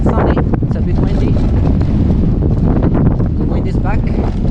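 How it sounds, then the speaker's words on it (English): Wind blows hard into a microphone outdoors in a city square in Malmö, a loud continuous buffeting roar with gusty low rumbles that mask most other sounds, with faint traces of a voice beneath it. "The wind is back."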